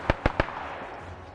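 Mortar rounds bursting in a WW2 video game: three quick sharp cracks in rapid succession, then a fading rumble.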